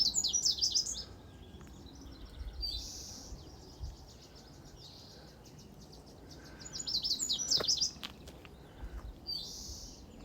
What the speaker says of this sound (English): Lots of beautiful bird song going on. Stop for a second, maybe you can hear it.